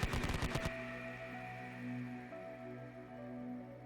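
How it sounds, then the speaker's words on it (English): Twin medium machine guns fire a short rapid burst as a sound effect, a quick rattle of shots lasting under a second, then a lingering tonal hum fills the rest. "Twin MMGs firing now."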